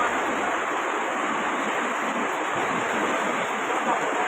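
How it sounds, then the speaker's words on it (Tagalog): Floodwater rushes in a strong current through a flooded town street in Camiling, Tarlac, a loud, steady, broadband roar with no pauses. "Ayan, ganyan po kalakas ang agos."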